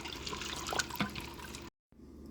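Bottled water pouring into a cooking pot during meal prep, a steady splashing gurgle with a couple of louder glugs, then a brief cutoff and quieter trickle.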